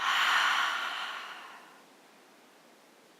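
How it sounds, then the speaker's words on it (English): A long, breathy exhale during a slow-flowing vinyasa yoga class, fairly close and soft, fading away over about a second and a half into near silence, with a brief rustle at the very end. "Breathe it out."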